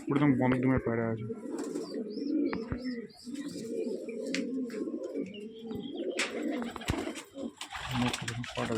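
A dhari pigeon pair, the male with a fully closed tail, keeps up a continuous deep rolling coo at close range, joined by faint chirps and brief rustles.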